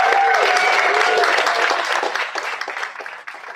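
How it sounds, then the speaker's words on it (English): Audience applause at an Australian citizenship ceremony in the Town of Victoria Park: a dense, steady wash of many hands clapping that thins and grows more scattered toward the end, with a faint tone lingering early on. "let's whoop it up with yet another round of applause"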